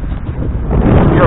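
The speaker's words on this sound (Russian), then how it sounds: "Ветер крепкий." Strong wind buffets the microphone on a stormy Amur river as a small inflatable boat runs under its motor through waves up to 1.5 metres, a steady low roar that swells louder toward the end.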